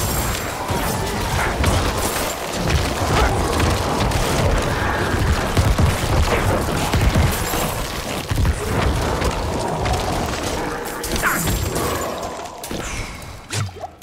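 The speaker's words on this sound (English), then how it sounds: "Just explosions everywhere!" Dense, continuous rumbling explosions and crashing impacts from Diablo 4 necromancer combat, loud and sustained across the whole stretch with brief bursts and whooshes layered on top.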